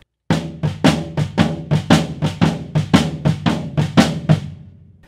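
Drum kit playing a Stick Control sticking pattern, floor tom alternating with bass drum in a steady run of roughly fourteen evenly spaced hits, close and punchy with no talking.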